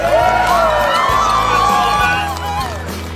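A crowd at a Special Olympics Polar Bear Plunge cheers and applauds the athletes, loud whoops and shouting voices over a continuous rumble of clapping, close and lively throughout.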